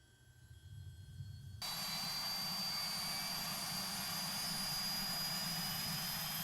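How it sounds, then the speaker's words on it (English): A Short 330 turboprop engine starts in a flight simulator game: a low, quiet rumble gives way abruptly to a loud, steady, hissing turbine whine that holds at constant strength. "I'll engage the starter, then watch the engine gauges for the correct compressor speed"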